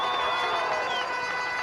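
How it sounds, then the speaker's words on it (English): A high school football crowd roaring at a touchdown, Ramapo versus Wayne Hills in 2004, heard as a dense, loud, continuous wash of cheering voices from a stadium. "Crowd getting into it."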